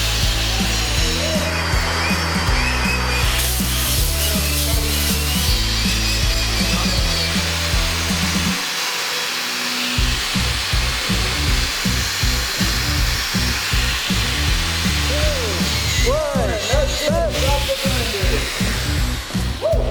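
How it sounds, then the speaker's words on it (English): An angle grinder fitted with an extra coarse Scotch-Brite Precision Surface Conditioning Disc works over a weld, giving a loud, continuous whirring drone with a brief dip near the middle before it resumes at full intensity. "using the Scotch-Brite Precision Surface Conditioning Disc extra coarse"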